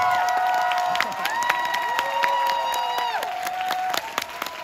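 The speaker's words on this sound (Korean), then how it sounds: "큰 박수!" Concert audience at an indie music festival show in Mapo Art Center breaks into big, sustained applause and cheering, with whistles and shouts rising over dense clapping throughout.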